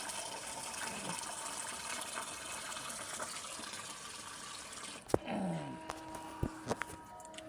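A vegetable garden being watered: a steady rushing gush of water pours for about five seconds, then stops, leaving a few sharp knocks and faint background sounds.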